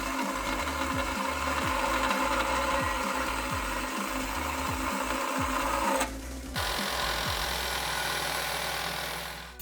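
A power tool, either a cutoff wheel or a grinder, trims the heat shield boss on a Lexus IS F during a header install. It gives a steady, loud, continuous whine with a rhythmic pulsing, pauses briefly, then resumes.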